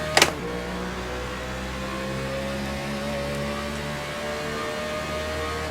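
Race cars in the iRacing game surge off the green flag in a 2015 NASCAR iRacing Series race at Kansas, a steady layered engine drone with a sharp burst at the very start, loud and continuous, with no talking.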